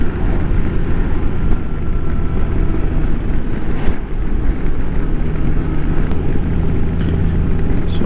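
A motorcycle cruises through a forest of old-growth trees, its engine drone steady and loud, mixed with heavy wind rush, continuous for the whole stretch with no talking.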